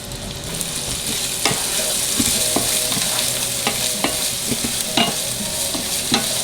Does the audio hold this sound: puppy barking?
no